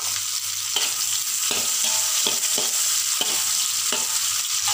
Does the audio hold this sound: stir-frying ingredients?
yes